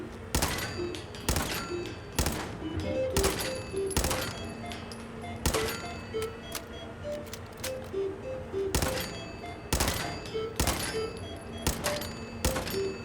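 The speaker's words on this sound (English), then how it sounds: "I didn't realize it was an auto pistol. Sometimes I was firing 2 bullets instead of 1" Repeated auto pistol gunfire in Fallout 4, sharp loud shots in quick bursts of one or two rounds spread across the scene, with game ambience between volleys.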